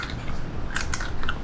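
A bite into a crispy fried chicken intestine skewer (isaw), Filipino street food, gives a quick cluster of close, sharp crunches over a second and a half.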